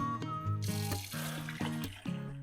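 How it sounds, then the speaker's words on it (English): Tap water running steadily over jalapenos being rinsed in a kitchen sink, a close continuous splash with uneven gurgles and shifts as the peppers are turned under the stream. "Give them a good rinse, and they're going to be ready for our recipe."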